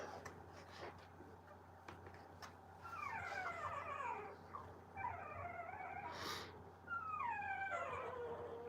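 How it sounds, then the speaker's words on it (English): Several small puppies whine and whimper in rising, wavering cries that come in bursts, growing louder after a quiet start, close by in an indoor room. "Oh, you noisy little puppies"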